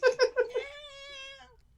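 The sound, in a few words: voice imitating a whiny house cat meowing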